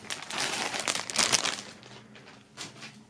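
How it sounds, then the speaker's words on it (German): A band T-shirt and album box set being pulled from crinkly plastic foil wrapping, a close, continuous rustling and crackling that swells in bursts. "erstmals holen wir die Sachen noch aus der Folie"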